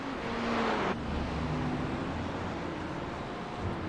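Steady engine drone of NASCAR race cars in the iRacing video game, a continuous roar with a rising pitch line that shifts about a second in, loud throughout with no talk.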